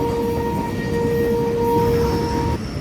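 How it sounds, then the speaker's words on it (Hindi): The Millat Express passenger train runs steadily near Tando Adam, a loud continuous rumble of rolling carriages with faint tonal whines from the wheels and rails, and no voices. "हमारी ट्रेन इस वक्त पहुँच रही है टंडोरम शहर में"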